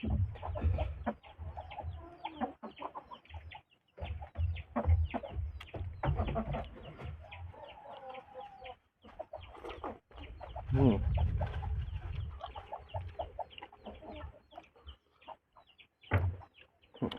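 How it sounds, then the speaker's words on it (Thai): Chickens clucking and fussing close by in a kitchen or cooking area, a busy run of overlapping clucks and scratchy calls continuing for over fifteen seconds with brief pauses. "ไก่พยายามขึ้นมากวนตลอดนะฮะ"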